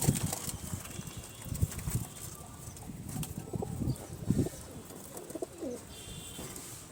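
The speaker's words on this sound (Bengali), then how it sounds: "ও পায়রাটা ম্যাড্রাসি পায়রা আছে, এখানে সবই ম্যাড্রাসি।" Madrasi pigeons in a full loft coo in repeated low throaty bursts, with occasional wing flaps and shuffling nearby, moderately close, and no talking.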